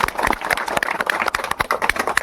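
An audience at a village magic show claps in quick, uneven bursts, close and lively, with a few faint voices mixed in.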